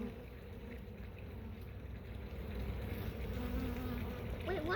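Honey bees buzz inside an open hive frame in a continuous low hum, close and steady, with faint handling sounds and no talk.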